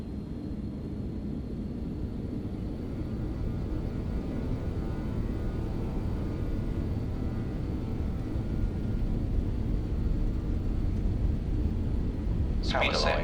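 BAe 146-100 jet engines in X-Plane 12 spool to takeoff power, a steady loud broadband roar and rumble holding constant with a faint high whine, a brief voice sound near the end.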